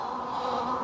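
Dense, steady hum of many honey bees at a hive during an early pre-spring inspection, a continuous close buzz with no breaks and no voices.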